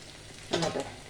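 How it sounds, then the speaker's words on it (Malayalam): A spoon briefly scrapes and stirs food frying in a pan with tamarind and salt over a raised flame, a couple of quick stirring sounds over a steady soft sizzle. "നമുക്കൊരു സ്പൂൺ കൊണ്ടൊന്ന് ഇളക്കി കൊടുക്കാം"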